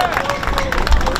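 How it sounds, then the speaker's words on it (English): Crowd applause at an outdoor community gathering honoring Ira Hayes in his hometown, a brief burst of dense clapping with a voice and general crowd murmur mixed in. "can we give her a round of applause as well?"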